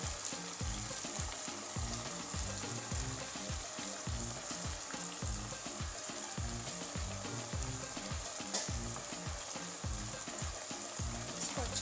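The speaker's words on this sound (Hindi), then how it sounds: "तब तक हम गोश्त को भून लेते हैं लहसुन प्याज के साथ" Mutton frying with garlic and onion in a home kitchen pan sizzles steadily and loudly, with a rapid irregular crackle and occasional stirring scrapes throughout, no talk.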